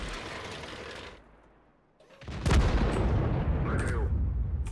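Conqueror Gun Carriage artillery in World of Tanks firing a single heavy shot, a sudden loud boom after a quiet lull, followed by a rumbling tail with a voice speaking over it.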